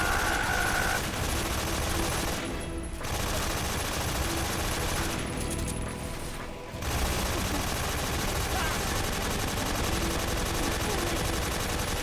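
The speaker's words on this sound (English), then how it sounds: "Somebody's shooting." Machine gun fire in the video game Metal Gear Solid 3: Snake Eater, a steady dense clatter of gunshots running through the whole stretch and mixed with game sounds, dipping briefly in a couple of spots.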